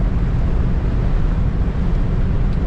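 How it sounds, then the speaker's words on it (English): Steady broadband rushing noise of wind buffeting around the convertible top of a 1970 Buick Electra 225 Custom Convertible while driving, constant and fairly loud with no voices. "Typical little bit of wind noise from this convertible top, as you would expect."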